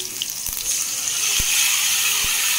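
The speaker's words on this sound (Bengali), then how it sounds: "সর্ষে বাটাটা দিয়ে একটু নাড়াচাড়া করবো।" Mustard paste fries in a pan with tomato and nigella seeds for a hilsa dish, a steady close sizzle with a few sharp knocks of a spoon as it is stirred, no speech.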